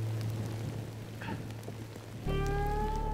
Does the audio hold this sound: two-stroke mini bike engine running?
no